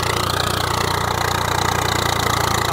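A tractor pulling a homemade harrow rig fitted to its cultivator works a field before gram sowing, its engine a steady, close, continuous drone with a faint rhythmic pulse throughout.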